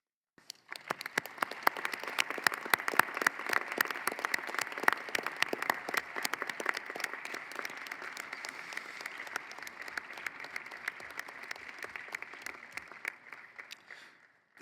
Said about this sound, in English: This applause speaks to our shared respect for Her Excellency Simona-Mirela Miculescu's distinguished service.